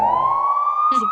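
A police car siren in the Roblox Brookhaven video game wails loud and steady, its tone sliding slowly upward throughout, with a brief burst of other game noise near the end.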